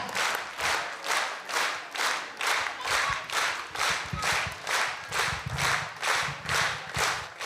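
Audience claps in unison at a Crimean Tatar Hıdırlez festival concert after a folklore ensemble performs, producing a steady rhythmic beat of roughly two claps per second that continues throughout.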